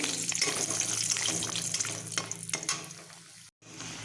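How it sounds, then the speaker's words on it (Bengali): Bori lentil dumplings fry in oil left over from frying bata fish, a close, steady bubbling sizzle with light crackles that drops out abruptly near the end, with no talking. "ওই তেলেই আমি বুড়িগুলো ভেজে নেব"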